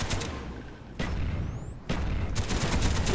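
Bursts of rapid gunfire from a gun in Call of Duty Black Ops crack out loud and close in three dense volleys, separated by brief lulls, with no voices.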